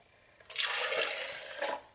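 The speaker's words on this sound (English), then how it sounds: "pour it into the container" Hot coffee milk poured into a Vitamix blender container, a short, close splashing gush of liquid lasting about a second and tapering off.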